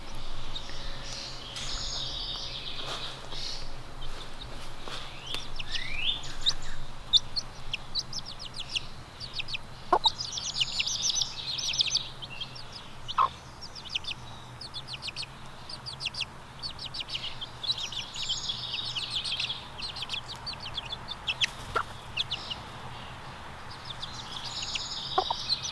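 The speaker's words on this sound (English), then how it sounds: "what the new baby chickens look like, the little silkies" Little silkie chicks chirp and peep continuously outdoors, with soft clucks mixed in and a few sharper calls standing out over a steady background hum.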